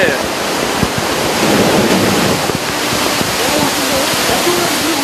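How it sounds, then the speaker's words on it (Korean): At a water park wave pool, a large mass of water is released from an upper holding reservoir to make waves, producing a loud, continuous roaring rush that stays steady throughout. "이곳에서 물을 모았다가 한 번에 배출시켜 파도를 만들어낸다고 합니다"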